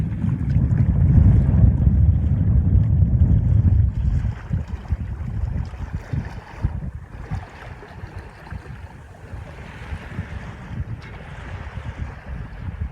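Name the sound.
Baba 30 sailboat sailing under head sail only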